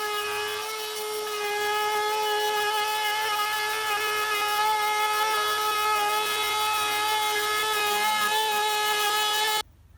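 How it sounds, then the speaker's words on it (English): A trim router fitted with a dovetail bit whines steadily while cutting a groove in a wooden cupboard panel for a campervan, guided along a clamped straight edge; the high sustained tone stays even and close, then cuts off abruptly near the end. "I'm just going to run it along here to create that groove"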